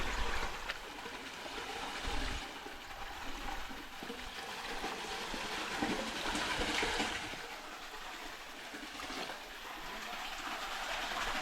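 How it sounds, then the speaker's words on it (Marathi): Spring water falling from above and trickling inside a small cave on the trek up Mirgad Fort, a steady broad rushing wash with hollow echoing surges. "झरा आहे झरा आतमधनं वरनं पाणी पडते खाली"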